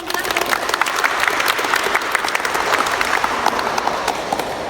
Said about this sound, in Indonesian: beri aplaus dulu untuk penampilan